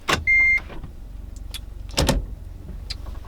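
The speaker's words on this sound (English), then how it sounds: "So now we're going to take the car for a drive and see how it drives." A 2014 Hyundai Veloster Turbo is readied for a drive, with a short electronic beep and a door thunk over a low idling hum, then a further mechanical clunk and faint clicks, close by and with no talk.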